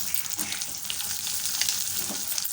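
Cashews and curry leaves fry in hot oil for a coriander rice dish, a dense, continuous crackling sizzle with faint stirring, close up and without any talking.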